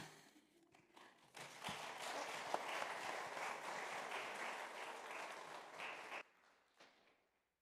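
Applause from the audience at a memorial service honoring a woman's life builds to a steady, dense clapping that holds for several seconds, then stops abruptly and fades into quiet room tone.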